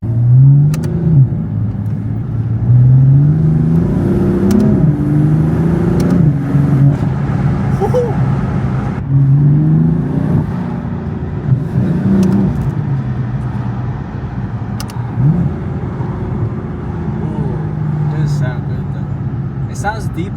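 A BMW F82 M4 with the S55 engine and equal length midpipes revs repeatedly nearby, rising and falling in a deep, less raspy tone with a few pops, while people talk over it throughout.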